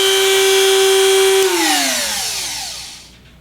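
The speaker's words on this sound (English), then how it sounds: "Now let's take a look at the drum turning and see what kind of run out it's got." A Wen rotary tool with a sanding drum spins with a loud, steady high whine, then the motor cuts out and the pitch glides downward as it winds down to a stop.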